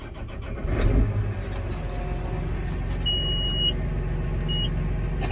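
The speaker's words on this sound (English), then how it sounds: "we're just restarting the tractor here." A John Deere 8330 tractor restarting: steady engine rumble with a firmer surge just after the first second, then running evenly, with a couple of brief high electronic beeps later on.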